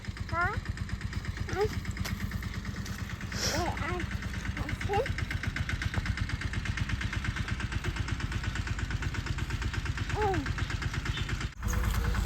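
A tractor's diesel engine idles with a steady low chugging throb, running continuously while people chat over it.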